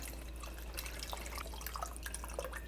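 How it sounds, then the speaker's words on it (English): Water trickles and splashes steadily into a pot of vegetable broth, a soft continuous pour with scattered drips, fairly quiet and alone. "I'm going to add in a little extra water to that."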